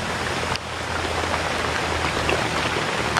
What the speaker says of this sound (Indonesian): ini sekarang gerimis